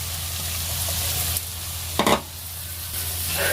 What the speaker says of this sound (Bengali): রসুনটা ভেজে নিয়েছে, পেঁয়াজগুলো দেবো।